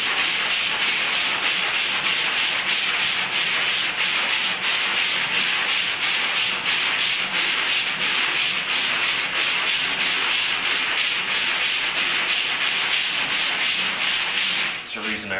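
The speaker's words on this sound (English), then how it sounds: "Even though I'm still cross sanding over it a little bit." Close-up hand sanding of body filler: rapid back-and-forth rasping strokes of sandpaper on a hard surface, steady and rhythmic for about fifteen seconds.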